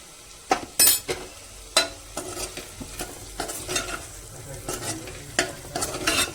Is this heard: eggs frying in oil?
yes